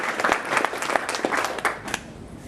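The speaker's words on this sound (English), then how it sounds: "another big round of applause for all the sponsors" A live audience claps in a sustained round of applause at an evening tech event, dense, even clapping that fades slightly toward the end.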